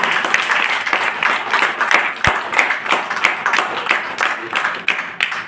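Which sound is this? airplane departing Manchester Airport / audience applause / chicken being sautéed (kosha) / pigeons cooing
audience applause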